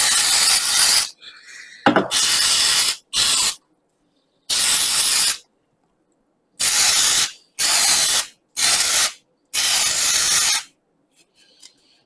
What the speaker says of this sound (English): not much left in this can. Just give it a bit of a spray.